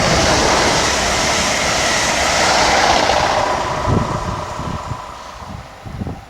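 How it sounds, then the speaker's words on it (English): British Rail class 332 unit 332009 runs a service bound for Heathrow Terminal 5 through a station. A loud, broad rumble of the moving train fills the opening seconds, then fades into quieter rhythmic wheel thumps. "we have service bound for Heathrow Terminal 5 in the form of 332009"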